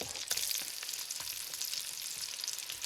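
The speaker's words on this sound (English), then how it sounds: "we are going to start this today by browning off a little bit of this andouille" Andouille sausage browns in olive oil in a Dutch oven, giving a bright, crackling sizzle with dense pops and spits throughout, loud and close.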